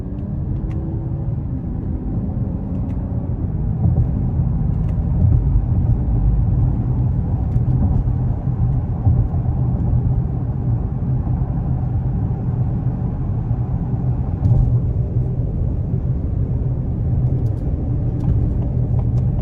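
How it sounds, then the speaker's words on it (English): A 2020 Lincoln Continental with a twin-turbo V6 accelerates in manual mode on a wet interstate merge, giving a deep, steady cabin-heard engine rumble with road noise that swells slightly and holds. "that turbo pull is great"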